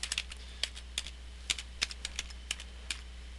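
Typing on a computer keyboard while writing HTML code: a steady run of crisp, close key clicks in an irregular rhythm over a low hum, with no talking.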